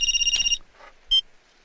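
Telephone ringing in a Hindi film scene: a loud electronic ring tone repeats several times over the first half second, then a brief quieter ring follows after a short pause, with no talk.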